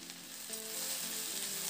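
Kalmi water spinach leaves, just added to lentils in a hot pan, hiss and sizzle in a soft, even wash with a faint stirring shuffle and a brief tonal hum, fairly quiet and close.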